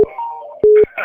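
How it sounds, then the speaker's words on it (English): Cell phone ringing with short electronic tones, a brief beep, then a longer sustained tone and another beep, loud and close amid faint voices. "It's my cell phone."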